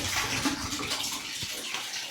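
Water draining out of a Samsung automatic top-load washing machine with a drainage fault, a steady rushing, splashing flow heard close and continuous with no talking.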